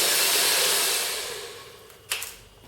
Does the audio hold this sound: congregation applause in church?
no